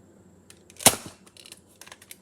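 Modified X-Shot toy blaster firing, one sharp close snap followed by a softer second pop, with light clicks and handling noise before and after.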